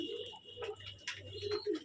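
Caged Rajshahi Giribaz pigeons coo softly in a closed, dark loft, a few low throaty calls rising and falling close by with no voices.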